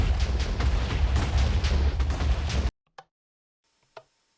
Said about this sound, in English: Trying to find the right tempo for our music of explosions.